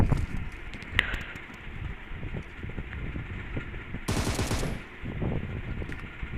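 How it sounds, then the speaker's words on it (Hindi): Gunfire in a battle royale mobile game, heard as rapid bursts of automatic shots over a dense in-game background, with a louder, brighter stretch of firing near the end. "भाई उधर भी खतरनाक फायरिंग हो रही है स्क्वाड हाउस से"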